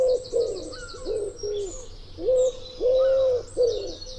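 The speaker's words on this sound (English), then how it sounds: "Here's the wood pigeon." Recorded wood pigeon cooing in a slow series of soft, low, hollow hoots with short pauses between them, fairly close and clear, with faint higher chirps from other birds in the background.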